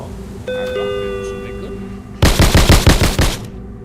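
Submachine gun fire in a video game, a rapid burst of about eight loud, sharp shots over roughly a second and a half, following a bright chiming electronic tone.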